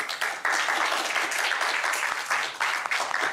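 Sustained applause from an audience at a university student election debate, dense clapping that swells and dips slightly, filling the room without voices.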